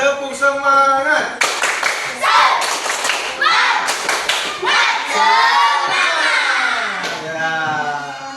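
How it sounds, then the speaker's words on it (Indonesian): Children in a classroom perform a rhythmic spirit clap, loud patterned volleys of hand claps alternating with a teacher's voice leading the chant. "Sekali lagi, tepuk semangat."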